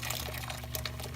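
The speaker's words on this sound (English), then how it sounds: "you're gonna pour them in a container." Blended spices and warm water poured into a container while making barbacoa, a steady close liquid pour running unbroken for about a second, no voices.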